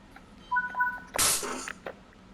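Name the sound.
train horn, likely Nathan K5LA, in Train Sim World 4 video game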